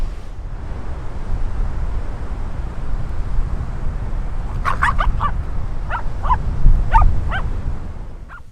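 Short bursts of dog barks and whimpers come in a few clusters over a low, rumbling outdoor background at Portimão Beach in the Algarve, Portugal, moderately close.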